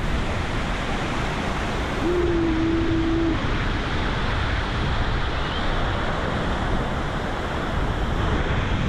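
The Pulhapanzak waterfall in Honduras roars steadily and loudly throughout, heard from the viewpoint below in the rain, a dense, constant wash of crashing water close by with no pauses.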